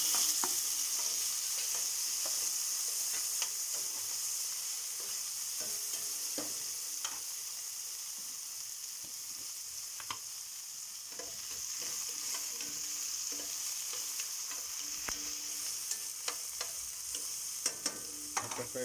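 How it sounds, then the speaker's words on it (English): Tomatoes sizzle as they fry with browned garlic in a pan over reduced heat, a steady hiss broken by scraping stirs and small clicks. "We're adding the tomatoes."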